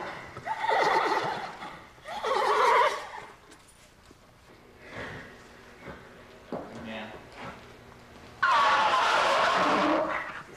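A 20-year-old Thoroughbred stallion neighs loudly several times between hoof clops and shuffling in a stable, with people talking quietly in the background.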